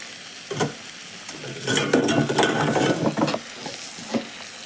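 A spoon scrapes and stirs a powdered mixture of ground peanuts and roasted gram in a pan over a low flame. The stirring comes in short, close bursts with a soft sizzle, and no one speaks.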